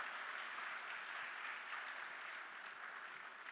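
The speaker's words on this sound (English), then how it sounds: "That deserves a bigger round of applause." An audience applauds at a stage event, a steady dense wash of clapping that holds evenly throughout with no talk over it.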